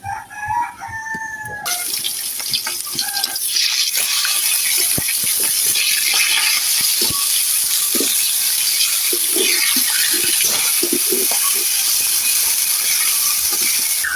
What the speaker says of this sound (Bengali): এখন যে পাঙ্কাশ মাছ ভাজি করে